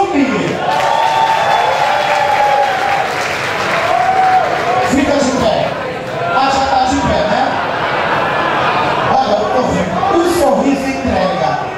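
A live crowd at a drag show in a club applauds loudly and continuously, with cheering and chatter mixed into the clapping and voices shouting over it.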